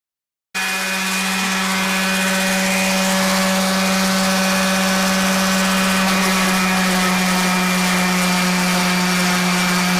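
Steady, loud whine of a power sander running continuously on wood with 60 grit sandpaper, a constant motor hum with droning tones, close and uninterrupted.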